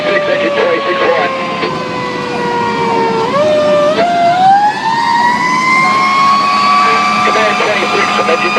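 Fire engine siren wailing loud and close, dipping then sweeping up and holding a long rising tone, with radio chatter and a heavy truck engine rumbling underneath, responding to a barn fire.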